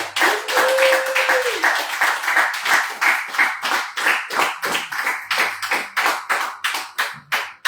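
A church congregation claps and applauds for the Lord, a loud steady rhythm of hand claps continuing throughout, with a brief voice over the start.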